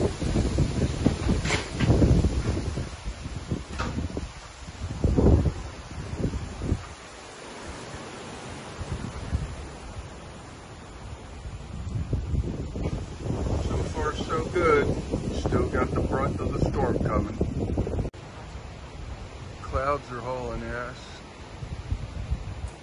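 Hurricane Milton wind gusting at about 45 to 50 mph, a broad roaring rush that surges and eases in waves, loud and close on the microphone, with people talking over parts of it.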